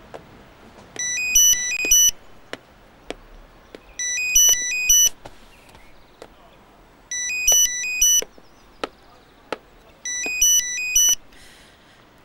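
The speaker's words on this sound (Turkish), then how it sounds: "Kızım sabahtan beri çalıyor telefonu." A mobile phone ringtone plays four short melodic bursts at regular intervals, separated by brief pauses with sharp clicks and faint room noise, no voices over it.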